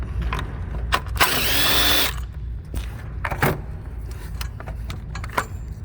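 A ratchet works loose a 10mm bolt on the ABS module of a 2014 Chevrolet Equinox, giving one dense burst of rapid clicking mid-clip amid scattered metallic clinks and knocks, with no talk.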